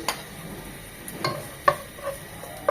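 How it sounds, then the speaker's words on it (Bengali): Chopped garlic being fried in hot soybean oil while stirred, giving a low sizzle with a few sharp clicks of a spoon against the pan, close and fairly quiet, no voices. "তেলটা গরম হয়ে এলে দিয়ে দিব দু চামচ রসুন কুচি"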